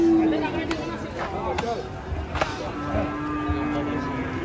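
Cattle lowing as they are unloaded from a truck in Indonesia, several moos and rumbling livestock noise over steady background chatter and voices.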